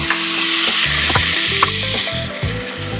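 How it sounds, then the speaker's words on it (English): Fresh pineapple chunks hit a hot pan and caramelize, a loud close sizzle with crackling pops and utensil scrapes as they are stirred, steady throughout with no speech. "This is a fresh pineapple I peeled and cut into chunks, and we're going to get these nice and caramelized."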